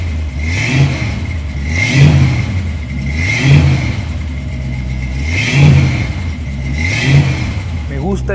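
A Ford Mustang 2+2 muscle car engine idles roughly and revs in repeated surges, about five swelling blips, loud and close with no talking.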